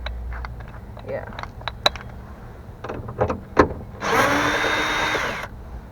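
A power drill removing a bolt while installing a wiper kit whirs steadily for about a second near the end, following scattered clicks and taps, with faint talk in the background.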